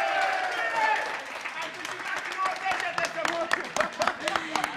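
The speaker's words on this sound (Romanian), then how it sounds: "Hai, un rând de aplauze pentru Daniel," Crowd applause for Daniel, a champion fighter at an RXF Next Fighter cage event, a steady spread of clapping with sharper individual claps toward the end, mixed with cheering voices.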